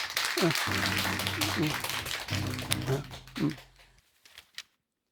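Audience applause in a Buddhist temple during a dharma talk, welcoming a lay singer. Dense clapping runs for about four seconds, mixed with a sustained voice or tones, then fades out.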